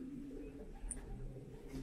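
Racing pigeons at a loft coo softly in a low, steady murmur, with a brief faint chirp partway through; no voices are heard.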